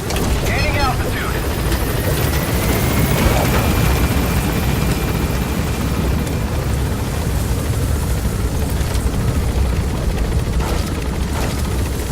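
Helicopter in Metal Gear Solid V gaining altitude, a loud, steady rotor and engine roar filling the whole stretch with constant broadband rumble and whine, with faint game voices over it.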